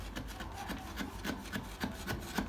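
A new craft blade drags and scrapes through paper laid on a wooden drawer, giving a quiet, steady run of short rasping strokes at a regular rhythm, close up with no talk.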